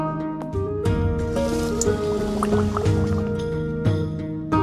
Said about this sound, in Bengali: চলো এবার এক এক করে আমরা নারকেলের কচুরিটাকে ভেজে নিই।